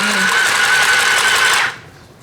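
A Singer Stitch Sew Quick 2 sewing machine stitches through three to five stacked layers of rag-doll fabric, a loud, steady motor whir with rapid needle chatter that runs unbroken for about a second and a half, then cuts off abruptly.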